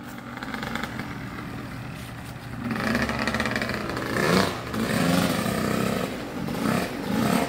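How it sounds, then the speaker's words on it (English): A dirt bike engine idles and then revs in rising, uneven bursts, loud and fairly close, swelling and falling several times with no voices over it. "You're gonna have to rev it out high. It has to be real loud, like that."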